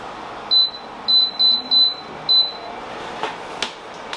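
An electric pressure cooker gives five short, clear electronic beeps in an uneven run as its timer is set, followed by a couple of faint clicks over quiet room tone.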